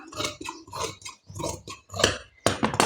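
Scissors snip through blouse fabric in a series of short crisp cuts, with brief pauses between bursts and a slightly louder final run of snips, close by with no talk.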